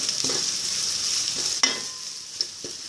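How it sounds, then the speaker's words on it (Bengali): Onions frying in ghee in a cooking pot for polao give a steady close sizzle throughout, broken by a few soft stirring scrapes. "ঘিয়ে আমি পেঁয়াজটাকে বেরেস্তা করব।"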